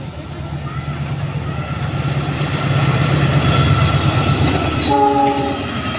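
The Gajayana passenger train bound for Malang rumbles past close by, the loud roar of the wagons building steadily before the train horn sounds a sustained blast near the end.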